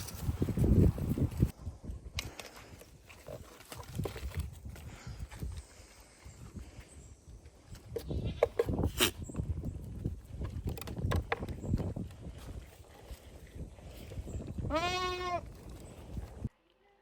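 Goats bleat intermittently amid outdoor rustling and shuffling, with one clear, wavering bleat standing out near the end.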